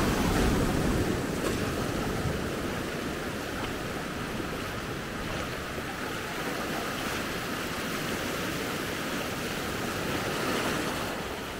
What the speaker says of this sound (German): So, ein paar Wellen gibt es auch dazu.